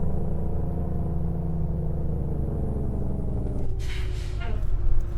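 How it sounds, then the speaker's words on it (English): A heavy truck's engine brake in American Truck Simulator gives a steady, loud low rumble that holds throughout, with a brighter hissing burst near the end. "the engine brake sounds way better in this truck"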